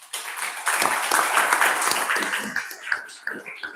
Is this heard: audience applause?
yes